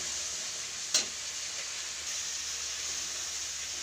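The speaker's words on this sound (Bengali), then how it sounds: "দিয়ে দেবো কাজু বাদাম বাটাটা, দিয়ে এটাকে আমি আবার ভালো করে কষিয়ে নিই" Poppy seed paste and cashew paste sizzle and fry in a pan for raw banana kofta curry, a steady soft hiss with one sharp clink of a spoon against the pan early on.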